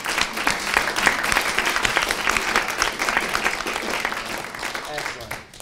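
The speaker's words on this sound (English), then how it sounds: "So let's give him a round of applause." An audience at a student government executive candidate forum gives a candidate a round of applause, steady clapping from a modest crowd, some voices mixed in, tapering off near the end.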